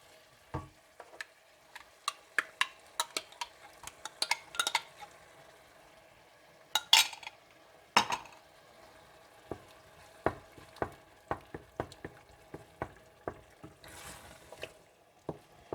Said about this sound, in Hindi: आप इसमें दही डाल दें और इसे अच्छी तरह से भून लें।